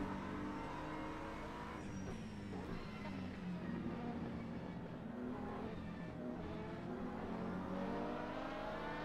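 A Porsche race car engine in a racing video game at the 24 Hours of Spa holds a loud, steady drone with rising and falling revs as it shifts through gears, and a faint voice is heard now and then.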